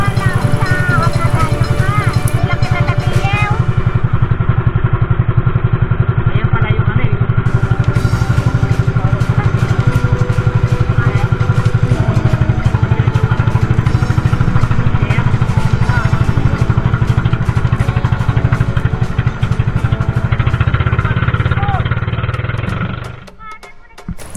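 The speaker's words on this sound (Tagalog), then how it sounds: "Tumunog na ang makina." A loud, steady boat engine chugging continuously at close range, with a rough, rattling drone that fades out near the end, during island hopping in Odiongan, Romblon.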